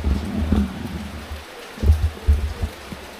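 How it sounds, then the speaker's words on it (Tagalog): Heavy rain pours steadily as a dense, noisy wash, with low thumps and rumbles rising and falling over a few seconds and no talking. "Lakas ng ulan."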